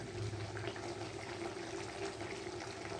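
Mustard oil poured into a hot cooking pan makes a continuous, fairly quiet liquid trickle over low bubbling, with no talk.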